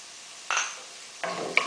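Two short scraping stirs of a spoon through garlic, apples and rosemary in a pan, with a soft sizzle, close and brief, no voices.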